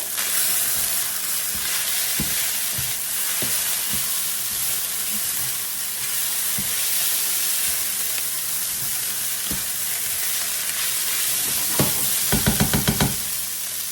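Fried rice with ham and onions sizzles loudly in a hot pan, a constant close hiss broken by scraping stirs and a quick burst of rhythmic clanks near the end.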